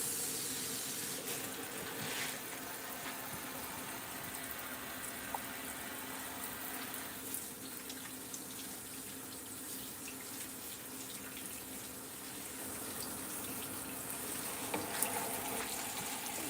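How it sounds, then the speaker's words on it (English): Vegetables being washed under a running kitchen tap, a steady close stream of water with faint splashes and occasional clinks throughout. "so let me wash these stuff because I'm gonna be cutting them up. So I'm gonna wash them."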